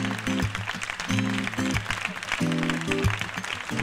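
Applause fills a stage contest show as one contestant takes the podium, steady clapping throughout while music with sustained tones plays underneath.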